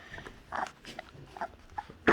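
Newborn nano micro bully puppies whimpering, a handful of short, soft, high yelps and squeaks scattered close by, with a louder squeal at the end and no talking.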